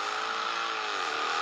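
Mercedes car pulling away hard from a standstill, a loud continuous engine roar with rising and bending harmonics as it accelerates, close by and steady throughout with no talking.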